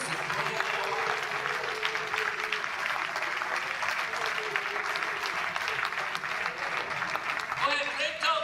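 A church congregation claps continuously at a steady dense pace, with voices murmuring and praying in tongues mixed into the clapping throughout.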